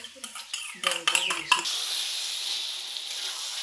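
Paneer and sauce paste on a tawa, a spatula clattering and scraping against the metal in a few quick knocks, then a steady soft sizzle carrying on alone.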